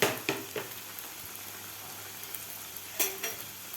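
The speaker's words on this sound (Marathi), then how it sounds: "व्यवस्थित आपल्याला हे असे थोडेसे लालसर होईपर्यंत हे तळून घ्यायचे आहेत मोदक मीडियम गॅसवर तळल्यामुळे हे कुरकुरीत होतात" Coconut-filled modak deep-frying in oil over medium heat, a soft steady sizzle with a few sharper crackles and a stirring scrape near the start and end, fairly quiet with no talk.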